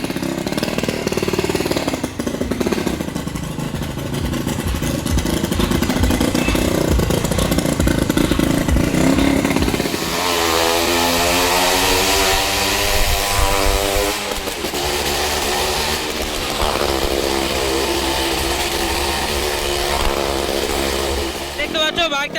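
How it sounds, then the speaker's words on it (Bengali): A motorcycle roaring around the wall of a well-of-death ride at the Jaynagar fair, its engine loud and close with revving, rising and falling pitch as it circles, over a noisy crowd and background music. "ওই যে দেখতে পাচ্ছ বাইক স্টার্ট করে দিল।"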